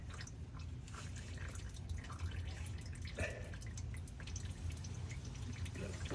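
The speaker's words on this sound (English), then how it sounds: "When it's dripping out like that consistently, it's full." Transfer case fluid dripping steadily from the fill hole of a Toyota Tundra pickup, heard as a faint, continuous patter of small drips over a low background hum.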